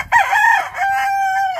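A Gilmore gamecock rooster crows once, close and loud, a rising first note drawn out into a long sustained tail.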